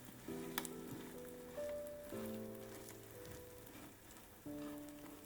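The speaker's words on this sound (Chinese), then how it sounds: "中火给它烙上2分钟" An eggplant and egg pancake pan-frying over medium heat in oil with white sesame seeds gives a soft, steady sizzle that runs throughout, with background music tones layered on top and no talking.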